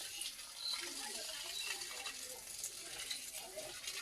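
Water sprays from a garden hose pipe onto plants in a home garden, a faint, continuous hissing splash with soft patters throughout.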